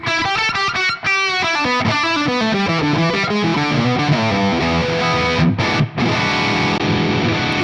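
A distorted electric guitar through a Mesa/Boogie amp model plays a fast, bending lead line with a thick, saturated amp tone, loud and continuous.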